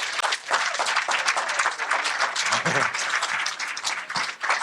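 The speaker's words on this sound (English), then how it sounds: "give her a big round of applause" A conference audience at a state of the cities event gives a loud, sustained round of applause for the chair of the finance committee, dense clapping filling the whole stretch with a brief murmur of voices beneath.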